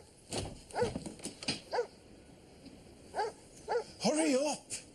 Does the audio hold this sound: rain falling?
no